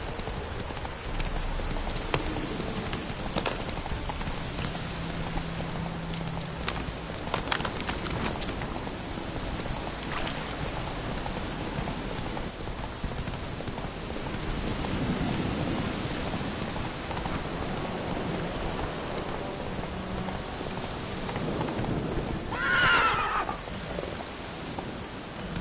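In The Witcher video game, the horse Roach gallops with steady clip-clopping hooves through a rainstorm, with rain hissing throughout and a brief louder burst near the end; no one speaks.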